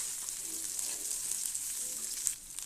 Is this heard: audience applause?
no